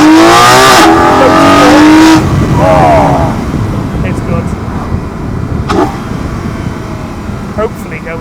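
Engine induction roar from a car fitted with an aftermarket air filter, loud and rising under acceleration for the first couple of seconds, then easing into a steadier hum while a voice speaks briefly.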